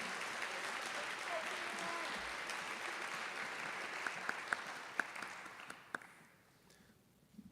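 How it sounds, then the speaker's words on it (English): Audience applause at a high school senior honors ceremony, steady clapping from a large crowd that carries on for several seconds, a few sharp claps standing out, before it thins and fades toward the end. "One more round of applause for them"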